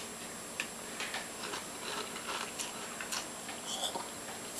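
A spoonful of breakfast cereal is eaten, with faint, close crunchy chewing clicks repeating irregularly over a quiet hiss, no talking.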